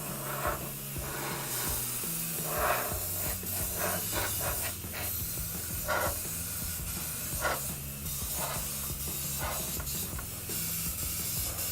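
Airbrush spraying a coat of pearl paint onto an RC car body, a steady close hiss running throughout with short bursts and clicks of the trigger and mechanism, no talking.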